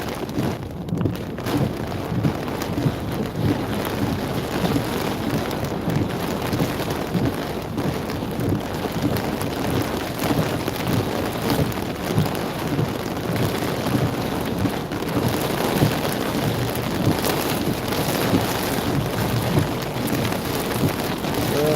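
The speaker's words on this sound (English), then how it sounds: "The wind is getting pretty stout here." Strong wind roars through a central West Texas storm, rushing and gusting steadily with rain noise mixed in. No voices are heard.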